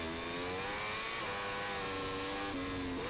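A high-revving superbike engine screams and climbs in pitch during a race at Ruapuna Raceway, Christchurch, briefly dropping before rising again, loud and continuous throughout.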